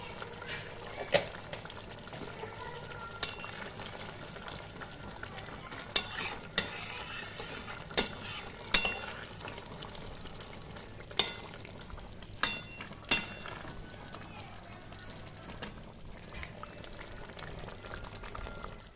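Chhanar dalna, a paneer curry with garam masala, simmering and sizzling in a pan while a spoon stirs it, with soft bubbling and intermittent sharp clinks and scrapes of the utensil against the pan.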